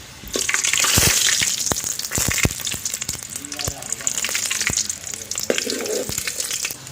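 Garlic fries in hot cooking oil, a bright hissing sizzle with scattered sharp pops and clacks of utensils, moderately loud, with brief background voices.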